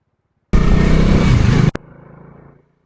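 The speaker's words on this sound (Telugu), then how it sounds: "అరే ఏం ట్రాఫిక్ రా బాబు." A car or motorcycle engine roars loudly and close for about a second in heavy road traffic at the Ramamurthy Nagar signal in Karnataka, then drops to a softer, fading hum.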